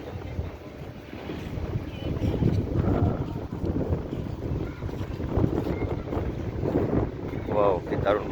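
Wind buffets and rushes across the microphone in uneven gusts, with a low rumble and faint voices mixed into the blustery noise, heard while riding an open jeep in Cox's Bazar.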